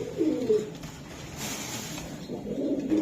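A Pakistani pigeon coos close by in two soft, throaty bursts, one at the start and one at the end, with a quiet pause between them.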